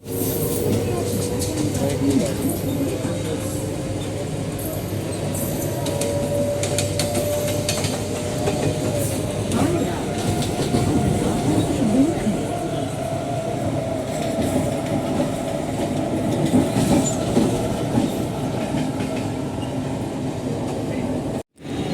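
A Mumbai local train runs from Jogeshwari toward Churchgate, a steady loud rumble with rhythmic wheel clatter on the rails that goes on throughout.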